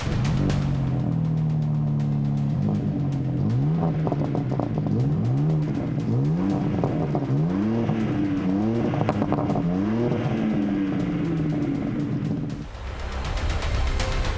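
BMW M4 CSL with a titanium exhaust system, its engine revving in repeated rising sweeps as it accelerates through gears, a loud close exhaust note with a brief dip near the end.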